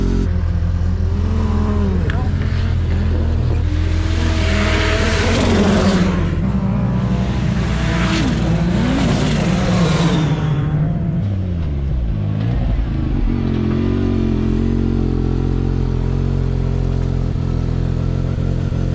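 A Can-Am Maverick R with an engine tune revs hard through sand dunes, its loud engine climbing and dropping in pitch close by, with clattering and wind noise throughout.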